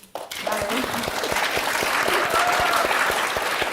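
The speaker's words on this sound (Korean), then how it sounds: "박수" Applause breaks out among a studio audience during a politician's testimony about martial-law night, starting after a short pause and settling into steady, close clapping with some voices murmuring underneath.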